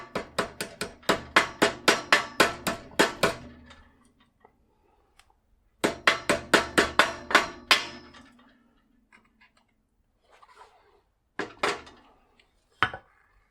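A hammer taps a screwdriver against the cotter pin of a Union bicycle's bottom bracket, two bursts of about ten quick, evenly spaced metallic strikes separated by a pause, then a few isolated knocks.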